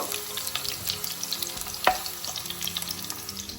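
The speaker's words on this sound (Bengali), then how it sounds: "এগুলো ভেজে নেওয়ার কারণটাই হচ্ছে সবজির কাঁচা গন্ধটা যেন চলে যায়" Potatoes and vegetables fry in oil in a pan, a steady close sizzle and crackle with occasional stirring scrapes and one sharper clink partway through, with no talking.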